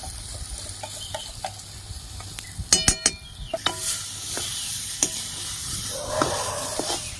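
Dhoka batter is stirred in a pan while cooking, bringing a soft background sizzle and a run of sharp utensil clinks and scrapes that cluster midway, then continue lightly.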